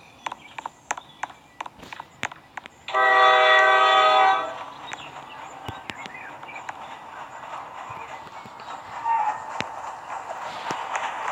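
A train in the Roblox game Jailbreak sounds a loud, steady horn blast lasting about a second, then rumbles on more quietly beneath scattered clicks and taps.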